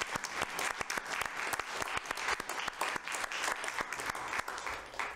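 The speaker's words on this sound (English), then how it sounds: "I think we need to give him a round of applause" A room at a city council meeting applauds the police chief, a dense, fairly soft patter of many hands clapping steadily throughout with no speech over it.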